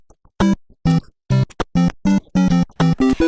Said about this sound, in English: this is the soundtrack from the video game Super Mario